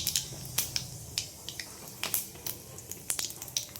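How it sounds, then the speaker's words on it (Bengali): Bengali five-spice seeds tempering in hot oil in a kadai crackle and spit, with scattered sharp pops and ticks in an irregular rhythm over a faint sizzle, close by. "কড়াইয়ে 5 ফোড়ন দিয়ে দিলাম"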